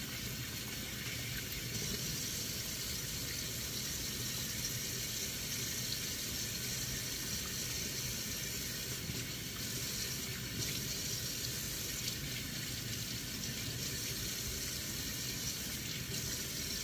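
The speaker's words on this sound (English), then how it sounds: "The hands are washed, round 2." A kitchen sink tap runs steadily while hands are washed under it, a continuous close splashing rush of water with little variation for the whole stretch.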